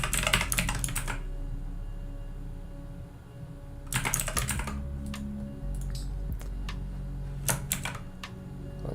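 Typing on a computer keyboard comes in three close bursts of rapid key clicks, separated by pauses, with a few scattered single taps over a steady low hum.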